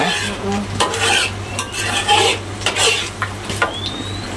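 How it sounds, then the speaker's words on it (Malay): Peanuts sizzle and crackle in hot oil while a utensil stirs and scrapes against the pan, with occasional clinks. "Sebelah tu kita goreng kacang"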